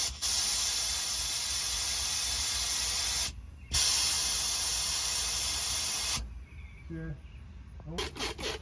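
A loud, steady hiss of gasoline spraying under pressure from a fuel line on a 1972 Chevrolet C10 runs for several seconds, breaks off briefly, resumes, then cuts out into faint rattling.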